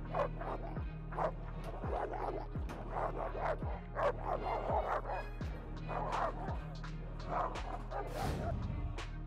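A Kangal dog, a guardian breed used against predators, barking in a regular rhythm of repeated deep woofs. The barks sit over a constant low hum, and a brief burst of noise follows near the end.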